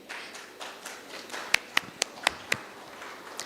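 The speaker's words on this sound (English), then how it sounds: "So these are claps for the Prime Minister." A few sharp, scattered claps ring out in a hall at a pharmaceutical conference in New Delhi, applause for the Prime Minister, the sparse hand claps building briefly into a short, uneven patter.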